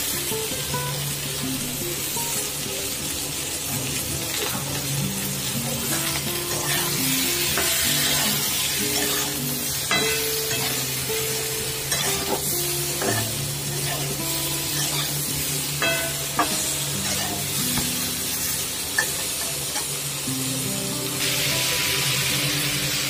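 Ridge gourd, potato and fish curry ingredients with turmeric, salt, green chillies and ginger-cumin paste fry in hot oil, giving a steady close sizzle with occasional stirring scrapes and no talk.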